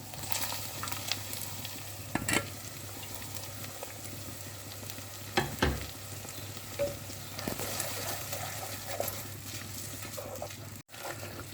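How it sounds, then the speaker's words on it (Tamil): Curry leaves, blended ginger and garlic, and small shallots frying in a pan for a chicken curry lunch, a soft steady sizzle with occasional stirring clinks and scrapes, close and fairly quiet. "வதங்கட்டும். கருவேப்பிலை, பிளெண்ட் பண்ண இஞ்சி, பூண்டு, சின்ன வெங்காயம்,"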